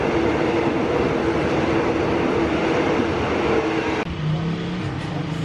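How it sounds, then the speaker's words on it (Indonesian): A train rumbles loudly through Grogol commuter rail station in Jakarta, a steady dense roar that drops slightly near the end as a low tone rises. "Sekarang gue udah ada di stasiun Grogol"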